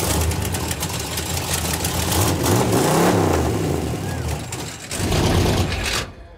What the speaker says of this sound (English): That sort of sounds like an Indy race car from the day.